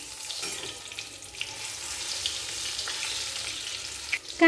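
Chicken cutlets sizzle in hot oil, a steady close frying crackle that holds for a few seconds before a brief louder burst at the end.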